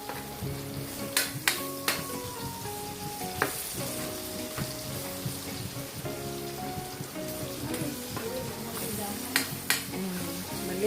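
Food sizzles and crackles steadily in hot oil, with occasional sharp pops and spatters and faint background sounds.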